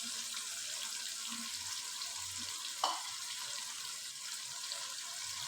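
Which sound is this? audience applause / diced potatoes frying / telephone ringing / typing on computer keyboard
diced potatoes frying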